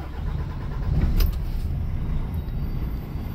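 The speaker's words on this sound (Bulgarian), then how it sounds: "След което палиме камиона" A DAF truck tractor unit, just uncoupled from its trailer, has its diesel engine running, a loud, close low rumble with a brief louder surge early on before settling into a steady idle.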